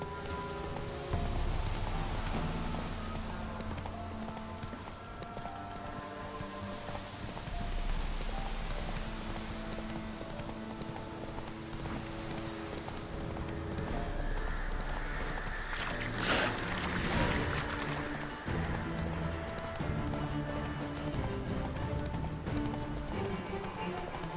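Roach, a horse in The Witcher 3, gallops with steady clip-clop hoofbeats under a continuous layer of game music and ambience, with a brief brighter burst midway.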